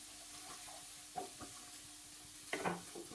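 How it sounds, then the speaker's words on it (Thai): Red curry paste is stir-fried in a pan over low to medium heat, with a soft, quiet sizzle and a few scattered scrapes of the spatula, two louder strokes near the end. "ผัดพริกแกงเผ็ดเนี่ยให้แตกตัวออกมาให้หมดเลยนะครับ"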